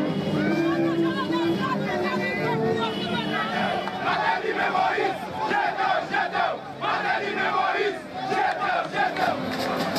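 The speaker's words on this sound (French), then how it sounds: "la foule lançait des slogans hostiles au régime en place" A street protest crowd in Haiti shouts slogans hostile to the ruling regime, a loud dense roar of many voices chanting and yelling together, continuous and near, with babble throughout.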